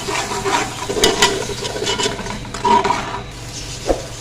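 Stirring tomato paste into a pot of goat trotters curry for Lahori paye, with soft wet scraping and sloshing strokes at close range, a few louder clinks of the spoon against the pot, and no talk.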